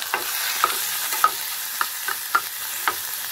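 Ginger and vegetables fry in a pan with oil, with a soft sizzle under about six crisp scraping stirs of a spatula at a regular pace, recorded close up.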